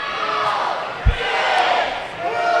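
Crowd noise at a college basketball game between Bethel and Huntington, with cheerleaders chanting over a steady roar and a single dull thump near the middle, all heard close and fairly loud.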